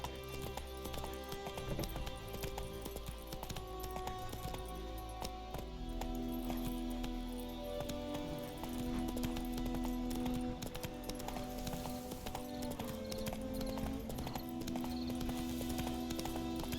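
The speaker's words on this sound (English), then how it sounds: "Run, Roach." Horse galloping in the video game The Witcher 3: Wild Hunt, with rapid rhythmic hoofbeats running steadily over a droning game soundtrack.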